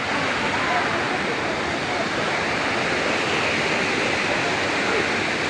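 A strong waterfall at Hinadyugan in Tanay, Rizal rushes in a loud, steady roar of falling water, with no break across the whole stretch.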